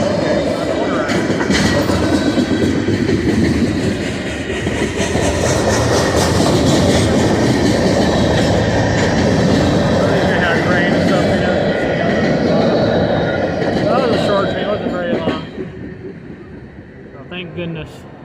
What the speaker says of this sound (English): at least you guys see a train go by